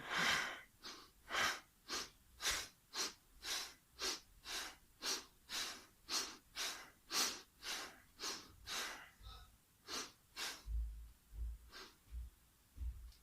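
Deep rhythmic breathing in a Taoist meditation exercise, about twenty strong airy breaths close to the microphone in an even cycle, fading into a few softer breaths at the end.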